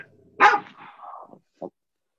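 A dog gives one loud close bark, followed by a trailing whine and a short second yip, with no other sounds around it.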